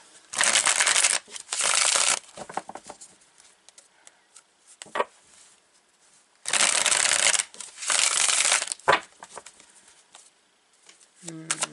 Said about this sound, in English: Cards didn't want to shuffle.